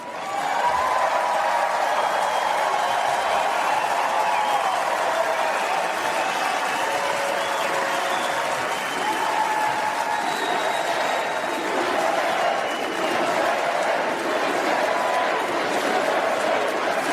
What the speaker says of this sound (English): Crowd going wild for Nikki Haley there.